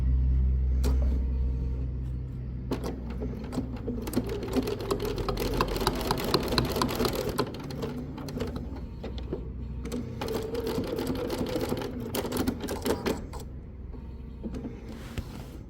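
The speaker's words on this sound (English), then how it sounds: "then I'll fold it up and top stitch it so it sticks up" A sewing machine top stitches a fabric strap for a Halloween treat bag, whirring in fast rhythmic bursts close to the microphone, with brief pauses between runs.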